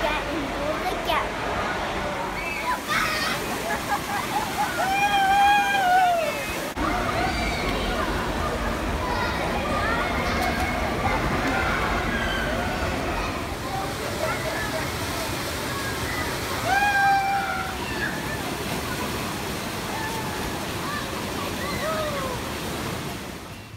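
Indoor pool at Center Parcs Longleat with water slides, a steady wash of splashing and rushing water under echoing children's shouts and squeals, with someone talking over it.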